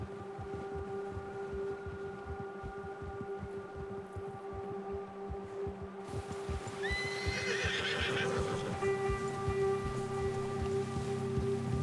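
A horse in Red Dead Redemption 2 gallops with close, rhythmic hoofbeats over steady rain, then lets out a loud, rising neigh, with the hooves continuing beneath it.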